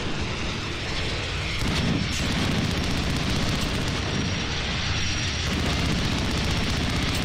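A VTOL aircraft in a video game drones with a continuous loud engine roar, with a deeper rumbling swell or two passing through the steady noise.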